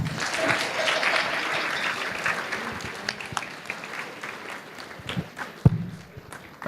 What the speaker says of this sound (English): Yes, you can clap. Please clap.